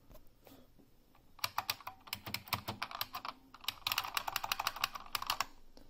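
Quick bursts of clicky buckling-spring key presses on a Unicomp Ultra Classic keyboard, sharp and close, typed in uneven flurries that build toward the end.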